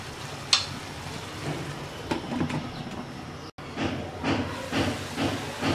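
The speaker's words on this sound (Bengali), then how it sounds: "এবার বাঁধাকপি আর আলু সিদ্ধ হওয়া পর্যন্ত রান্না করব।" Cabbage and potatoes with dried shrimp boil in a pot, giving a steady steamy hiss with a sharp clink near the start, a brief dropout, and soft bubbling surges close by.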